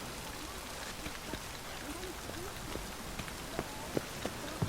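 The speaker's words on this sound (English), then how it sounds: "Raining again." Steady broadband rain hiss in the video game The Witcher 3: Wild Hunt, with scattered sharp drop ticks and splashes growing slightly more frequent, fairly close, with no voices over it.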